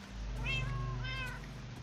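A kitten in Minecraft for the Xbox 360 gives two short, high, thin meows in quick succession over a steady low hum, with no speech.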